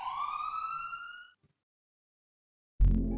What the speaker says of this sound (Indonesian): Pernahkah kita mendengarkan suara sirine ambulan?